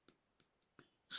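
White marker writing on a board: a few short, soft squeaky strokes in quick bursts, close and quiet, ending with a louder scrape.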